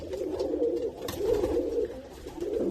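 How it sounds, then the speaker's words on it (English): A flock of about 86 rescued pigeons coos continuously inside a coop, a dense, steady, low murmuring chorus heard up close. "so this is about 86 birds in here"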